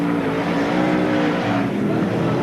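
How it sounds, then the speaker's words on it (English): Sprintcar racing engines at Speedway Park in 1980, a loud, close, continuous roar of several cars at speed with droning, shifting engine tones filling the whole stretch. "The big HM car that you can see, Garry Rush."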